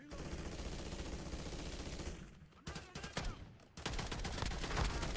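Gunfire in a Warzone Season 3 Reloaded match, rapid automatic bursts in dense stretches with a brief gap before firing resumes loudly, set against game ambience.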